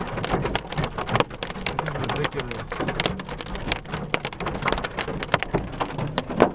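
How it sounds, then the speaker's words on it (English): Hail pelting a car windshield and hood during a summer hailstorm at Lake Alpine, California, a dense, continuous clatter of sharp impacts with louder cracks, heard from inside the car while people talk over it. "You just see hail exploding on the windshield."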